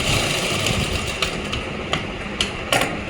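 A sewing machine runs steadily while stitching a simple kameez, giving a continuous close whir broken by a few sharp clicks near the end.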